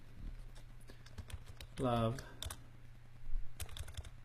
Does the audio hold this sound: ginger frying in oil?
no